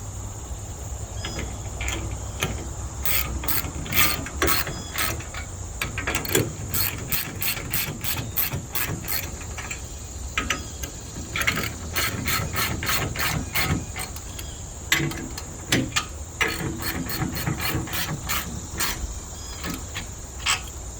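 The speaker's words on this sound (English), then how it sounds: "now we're going to tighten this thing up" A hand ratchet clicks in quick repeated bursts while tightening a part near a crank, crisp and close, with short pauses between strokes.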